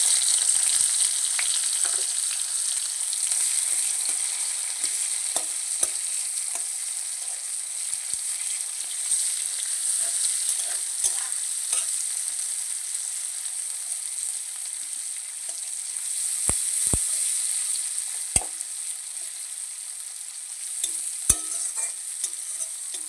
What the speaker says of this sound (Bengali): তেলটা গরম হয়ে গেছে এইবার আমি পেঁয়াজ কুচিগুলো দিয়ে দিলাম